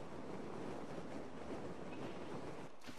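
A character falls into the sea in GTA V Online after a parachute drop, giving a continuous rushing, splashing wash of water and surf noise that holds steady and then briefly thins near the end.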